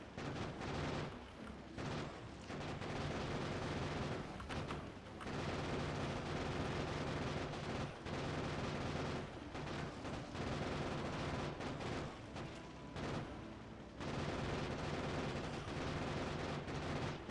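Sustained rapid gunfire rattles almost nonstop from a turret defence fighting worms in the factory-building game Factorio, loud and continuous with a few brief pauses.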